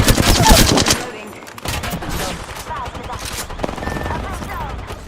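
Gunfire rattles through a Call of Duty: Modern Warfare II match: dense, loud bursts of automatic fire up front that ease into a brief lull, then continued scattered shots and game sounds.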